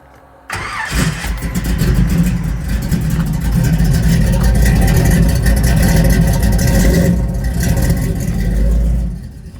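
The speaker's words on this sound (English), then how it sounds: "Give it 2 pumps on the gas pedal. 1, 2, and then fire it right up." An old car engine cranks and fires up abruptly, then runs loud and rough with a throaty rumble and some revving for about nine seconds before dropping off near the end.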